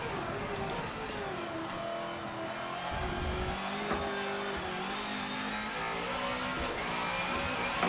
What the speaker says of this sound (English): I'm ready to redline this thing. This poor engine.